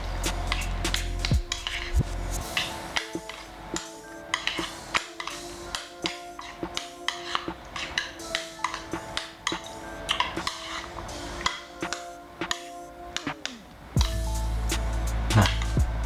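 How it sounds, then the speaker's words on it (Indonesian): A spoon scrapes and knocks against a metal pot while beef curry is stirred, with irregular clinks and taps in a steady rhythm, close and clear, ending in a louder sizzle. "Kita aduk dulu."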